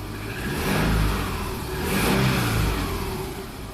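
A Subaru engine running at high idle around 1100 RPM, a steady mid-pitched hum with two gentle swells in loudness, heard close with no speech.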